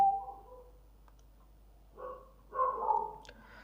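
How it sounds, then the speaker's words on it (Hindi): A dog out in the street gives a couple of short barks at a moderate distance, with quiet pauses between them. "देखो भाई यहाँ पे कुत्ता उत्ता भौंक रहा है"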